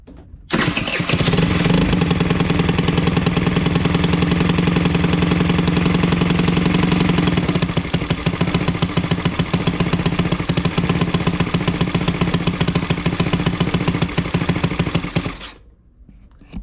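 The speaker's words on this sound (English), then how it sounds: "We got to get it rolling and find a good idle spot." A small engine on a custom build starts up and runs loud and close, holding a steady, rapid idle with a rough pulsing beat for about fifteen seconds before it cuts off.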